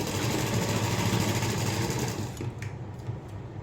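A sewing machine runs in one steady fast burst, stitching the lining of a blouse at the neckline, close and even before slowing near the end with a few clicks.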